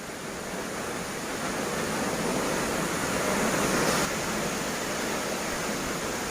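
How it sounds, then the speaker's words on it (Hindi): The Ozarde waterfall at Koynanagar roars in full flood with a steady, loud wash of rushing water. It swells slightly midway, with no voices audible. "पानी का फोर्स देखा कितना ज़्यादा है।"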